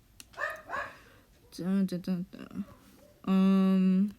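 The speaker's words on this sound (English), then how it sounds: "my dogs are barking" A dog barks and yips several times nearby, with sharp harmonic barks and a longer sustained bark at the end, in an indoor setting.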